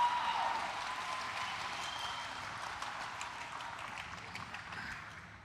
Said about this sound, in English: I'm assuming you are clapping for the college degrees, not the felonies.